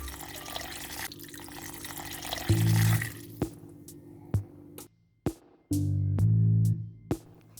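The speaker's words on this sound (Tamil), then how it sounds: "நான் 6 கப்பு இதில் தண்ணி ஊற்றிக்கிறேன்" Water poured from a cup into a pot of rice porridge in several short bursts, each a close splashing gush separated by quieter drips and pauses, with no talk.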